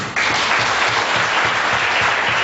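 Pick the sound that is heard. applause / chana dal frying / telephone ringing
applause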